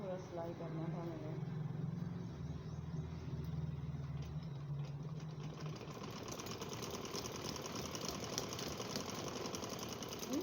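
A sewing machine stitches cloth with a steady, fast mechanical whirring hum that runs for several seconds before giving way to a broader, noisier drone, as a person talks over it.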